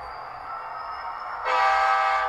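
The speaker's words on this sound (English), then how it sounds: "So here's my Athearn SD60E." An Athearn SD60E model locomotive runs on a model railway layout, producing a steady electric hum with a thin tone. The sound swells into a louder, fuller burst about halfway through, and no one speaks.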